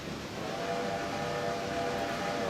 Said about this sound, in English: but I can hear the train coming.